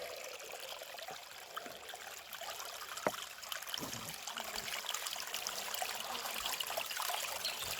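Water runs steadily through a small gold sluice set in a stream, a close, continuous trickling rush with faint splashes and a few light knocks.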